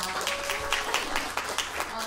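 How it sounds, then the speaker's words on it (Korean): An audience at a 2018 conference in Busan claps in a brisk, rhythmic burst of applause, with a voice talking over it. "역시 부산 분위기 좋습니다. 환호를 해주시고"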